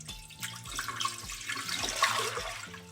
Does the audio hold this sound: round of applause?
no